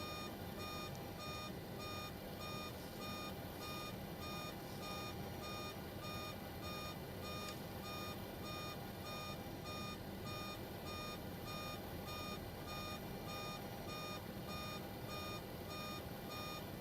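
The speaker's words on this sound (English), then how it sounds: "Still beeping." Cockpit warning alarm in an FSS Boeing 727-200F in Microsoft Flight Simulator, a rapid, regular electronic beeping that repeats steadily throughout over a constant background hum, with no talk.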